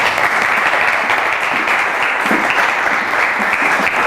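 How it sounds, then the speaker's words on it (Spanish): Steady, continuous audience applause after a finance lecture, loud and even throughout with no voices over it. "¿Te podemos dar un fuerte aplauso, por favor?"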